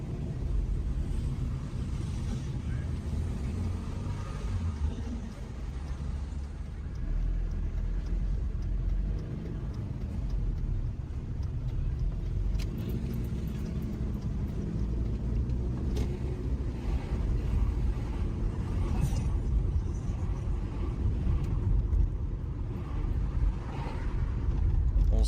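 A car driving over rough road, a steady low engine and road rumble with wind buffeting the microphone and occasional faint rattles and knocks, continuous for the whole stretch with no talking.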